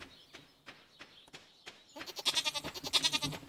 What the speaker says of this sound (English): Oh, the goats are adults